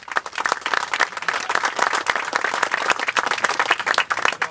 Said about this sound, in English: Let's give Guy a nice round of applause.